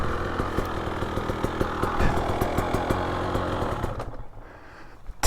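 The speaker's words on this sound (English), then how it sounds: "TX300 TBI. Geez, it runs clean." A 2023 Husqvarna TX300 TBI dirt bike engine runs steadily in cold weather at about 40 degrees, with a close, continuous two-stroke rattle and regular pulsing that drops away near the end.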